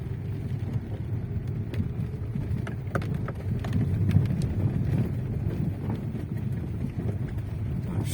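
A Lada Vesta drives along with a steady engine and road rumble, and a faint metallic ringing rattle from a worn exhaust flex pipe shows up as the throttle is released. Wind noise runs over the whole stretch.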